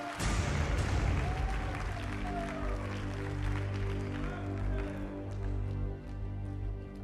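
A church congregation applauding, a burst of clapping strongest at the start that thins out, with sustained keyboard chords underneath.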